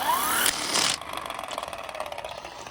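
Electric 5-ton hydraulic car jack from a roadside emergency kit, powered from the vehicle's power socket, whirring mechanically after a brief louder burst, with a steady buzzing, ratcheting drive sound that continues close and moderately loud.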